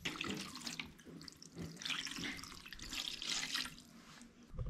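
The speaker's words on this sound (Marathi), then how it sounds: "आपण तिला स्वच्छ पाण्याने ना धुवून घेऊ पहिलं।" Cut mackerel pieces being rinsed under running tap water in a sink, a steady close splashing and trickling stream with shifting gurgles throughout, no voices.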